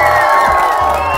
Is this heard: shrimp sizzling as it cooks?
no